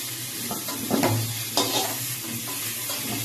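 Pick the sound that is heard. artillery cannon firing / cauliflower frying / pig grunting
cauliflower frying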